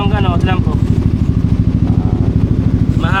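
Motorcycle engine on a long road ride, a loud, rhythmic putter with a steady pulsing beat, close up, while someone talks over it at the start and end.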